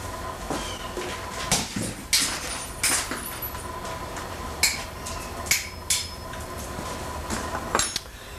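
An old rectifier vacuum tube is broken open to free its metal plate: a close series of sharp clinks, cracks and knocks, irregularly spaced over several seconds, with no talking.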